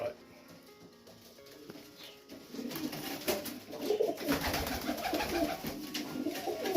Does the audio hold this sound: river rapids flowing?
no